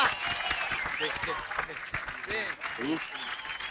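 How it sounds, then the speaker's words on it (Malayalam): A group of people clapping in a toddy shop, scattered claps mixed with shouting and overlapping voices, loud and busy in a film scene with music underneath. "ആശാന് വേണ്ടി എല്ലാരും ഒന്ന് ക്ലാപ്പ് ചെയ്യടാ."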